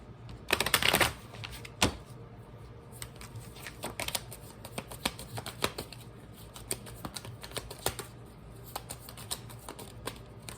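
Tarot cards are shuffled up close. A dense riffling burst opens the sequence, followed by scattered light taps and clicks as the deck is handled quietly.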